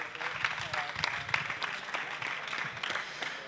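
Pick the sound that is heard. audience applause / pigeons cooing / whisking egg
audience applause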